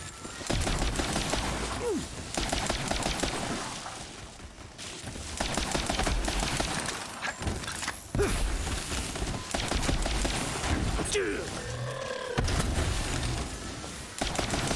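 Rapid rifle gunfire in Borderlands 3, fired by the character Zane, forms a dense, steady barrage of loud cracks that runs almost without pause, with a few short gaps and game effects mixed in.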